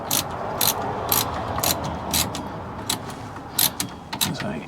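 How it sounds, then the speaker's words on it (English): Rapid bursts of ratcheting clicks from a small ratcheting spanner turning an 18mm bolt on a 2012 Volvo XC60 D5 AWD, repeated in short strokes close by over a steady workshop background. "I love these things, these little ratcheting spanners."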